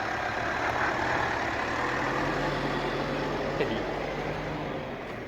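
The small engine of a 2019 Mitsubishi MR Triton GLS Premium pickup idles low and steady while crawling over off-road terrain, a constant deep hum with wind-like broadband noise and no break.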